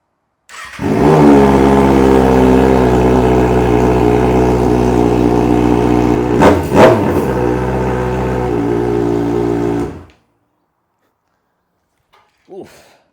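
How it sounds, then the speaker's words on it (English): A Kawasaki ZX6R motorcycle fitted with an M4 GP19 exhaust and no muffler fires up and idles loudly for about nine seconds, with a couple of sharp throttle blips partway through, then cuts off to silence. "I want to get a startup now with no resonator, no muffler. Let's just see how this bike sounds"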